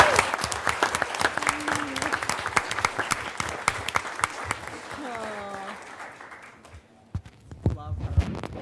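An audience at a school board meeting gives a burst of close, lively clapping that tapers off over several seconds, with a few voices mixed in near the end.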